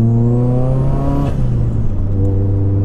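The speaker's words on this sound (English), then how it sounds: "Man, you hear that turbo whistling as well." A 504bhp Vauxhall Corsa VXR's tuned turbocharged engine revs close and loud, its harmonic note climbing to a peak and then dropping back, with a high turbo whistle riding on top; nobody speaks.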